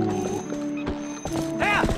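Epona, the horse in the video game Twilight Princess, whinnies once near the end after a few hoof clops, fairly close and clear.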